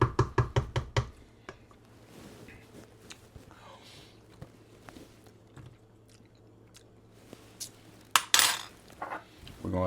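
A metal tasting spoon clinks against a pot of crab and corn bisque, a quick burst of close, sharp taps at first, then quiet scraping and soft knocks before a louder clatter near the end.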